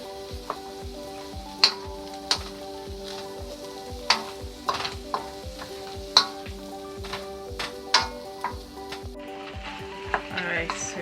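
Vegetables and chicken frying in a hot pan for brown stew chicken, a steady close sizzle broken by repeated sharp clicks and taps of a utensil stirring against the pan, with no voices.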